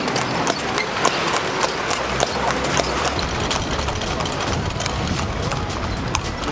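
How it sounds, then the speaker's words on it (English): Hooves clip-clop steadily as a horse pulls a carriage through the streets of Mérida, a brisk even rhythm amid busy street noise and talking. "We're thinking about taking a horse ride in the horse carriage"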